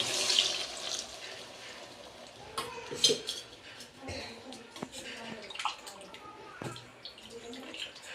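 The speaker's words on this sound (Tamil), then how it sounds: "அரிசி கலந்து தண்ணி ஊற்றுறேன்" Water splashes and trickles into a pot of rice amid clattering of metal utensils while making Chettinad fish curry, with faint background sounds throughout.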